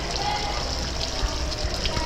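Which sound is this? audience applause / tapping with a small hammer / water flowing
water flowing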